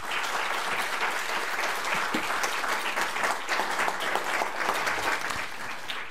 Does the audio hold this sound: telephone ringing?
no